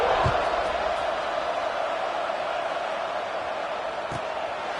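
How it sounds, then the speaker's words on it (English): A stadium crowd buzzes in the College Football 26 video game, a broad steady roar of many distant voices with a couple of faint thumps, continuous throughout. "this crowd is buzzing after that last score"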